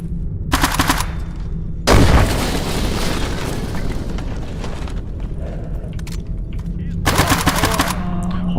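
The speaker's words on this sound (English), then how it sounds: "Oh, that's an LMG, even better." Light machine gun fire in S.T.A.L.K.E.R. Anomaly: a loud sustained burst of rapid automatic shots rolls on for most of the clip, with sharper bursts at the start and near the end.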